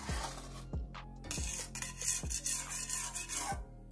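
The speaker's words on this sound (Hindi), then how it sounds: "अभी भी आप इसके अंदर मुसलसल चम्मच हिलाते रहें।" A spoon stirs milk and sugar thickening in a pan over low heat, giving a steady rasping scrape against the metal with regular knocks roughly every three-quarters of a second, close and clear with no talk.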